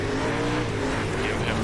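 A dirt late model race car in the iRacing Dirt game, World of Outlaws at Volusia Speedway Park, brakes into a corner and slides sideways, a dense engine roar with tire scrub throughout the short burst.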